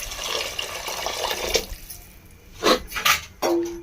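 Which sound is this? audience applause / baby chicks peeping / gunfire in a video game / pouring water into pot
pouring water into pot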